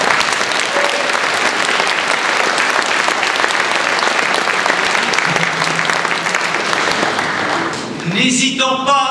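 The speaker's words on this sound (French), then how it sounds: "je crois que ça mérite des applaudissements" Audience applause following a speech at a free-expression conference, a steady dense wash of clapping that holds for about eight seconds before fading, with a few voices and brief sounds breaking through at the end.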